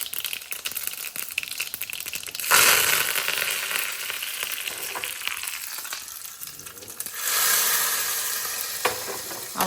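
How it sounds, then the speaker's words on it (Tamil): Mustard seeds crackle and sizzle in hot oil during tempering for a rice porridge, a steady close frying hiss that swells louder twice, with no talking. "இப்போ நம்ம வந்து கடுகு மட்டும் போட்டு தாளிப்பு கொடுத்துடலாம்"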